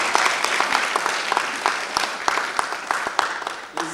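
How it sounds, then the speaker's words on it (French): An audience applauds at a women's leadership forum in the European Parliament in Strasbourg, with steady, loud clapping from many hands filling the hall and tapering off at the end. "je vous prie d'applaudir"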